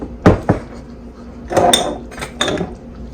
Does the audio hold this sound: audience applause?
no